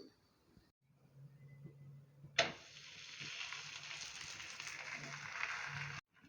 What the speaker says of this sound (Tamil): தோசைக்கல்லில் ஆயில் அப்ளை பண்ணிவிட்டு இப்போ நம்ம சப்பாத்தியெல்லாம் போட்டு எடுத்துக்கலாம்